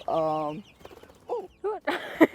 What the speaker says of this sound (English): These here are called pullets, and they're going to be meat chickens.